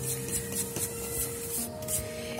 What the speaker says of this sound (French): Je retire la poussière avec une brosse souple.